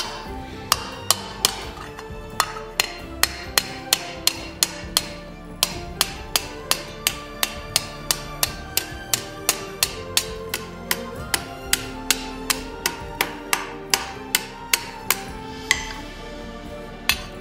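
A metal plate for a replica Uruk Hai helmet is hammered over a stake in steady, evenly spaced ringing blows, close and clear, about forty strikes with no talk.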